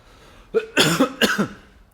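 Two quick, harsh coughs close to the microphone, one right after the other.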